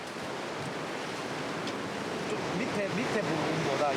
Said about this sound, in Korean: 와, 파도가 세긴 센데